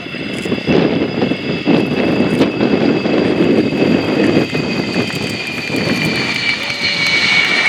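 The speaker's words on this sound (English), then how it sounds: "The Ukrainian Air Force Sukhoi Su-27 P1M." Ukrainian Air Force Sukhoi Su-27 P1M fighter jet landing at an air display with airbrake extended, a loud steady broadband roar of jet engines that holds throughout with a high whine on top.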